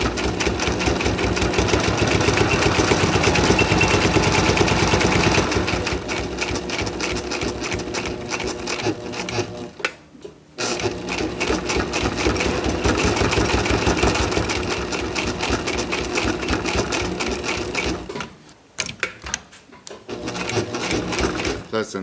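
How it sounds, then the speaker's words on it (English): A sewing machine runs a wide zigzag seam on sailcloth for a sailboat lazy bag, with a loud, close, steady mechanical whir and needle clatter that stops briefly twice before starting again. "in the widest zigzag I have. And then sew it straight."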